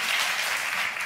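Studio audience clapping at a television taping, a brief dense burst of many hands, steady and fairly loud throughout.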